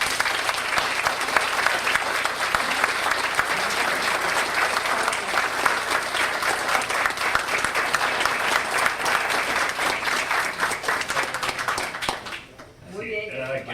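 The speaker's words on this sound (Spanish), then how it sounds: "pido para ella un fuerte aplauso" A strong round of applause from an audience greeting a presenter at a book talk in Miami: loud, sustained crowd clapping for about twelve seconds, then breaking off abruptly into quieter room sound.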